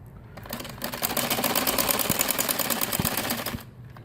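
A sewing machine stitches along the hem edge of a salwar in one rapid, even burst lasting about three seconds, starting and stopping cleanly.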